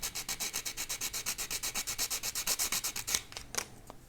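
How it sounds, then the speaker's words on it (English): Rhythmic back-and-forth sanding of a plastic ISS model part with 220-grit sandpaper, about twenty quick even rasping strokes close up, then a few slower scuffs before stopping. "So let me get some 220 here and just sand this."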